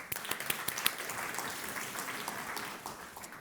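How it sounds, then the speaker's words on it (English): An audience applauds steadily, a dense wash of many hands clapping that holds at an even level throughout. "Please give yourselves a round of applause."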